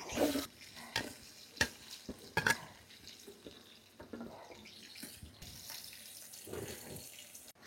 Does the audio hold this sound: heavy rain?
no